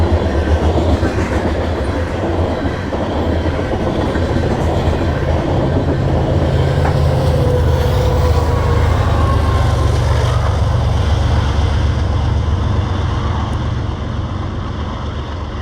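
Freight trains with a pusher locomotive pass close by, with loud continuous rumble, deep engine drone and clattering wheels that hold steady before easing slightly toward the end.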